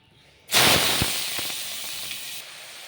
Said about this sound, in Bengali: তো চলো এগুলো ভেজে নিই।